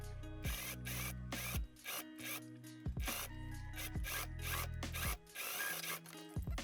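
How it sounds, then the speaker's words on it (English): A sewing machine stitches a sleeve into a winter coat. Bursts of rapid mechanical stitching are separated by brief pauses and handling rustles, close and fairly quiet with no talking. "And now we can sew the sleeve in."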